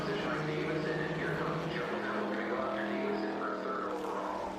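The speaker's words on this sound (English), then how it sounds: "Beautiful sound of these lovely historic cars here at Watkins Glen." Historic race cars at the Watkins Glen circuit, engines droning and shifting pitch as they pass, heard at a moderate distance with commentators speaking over them.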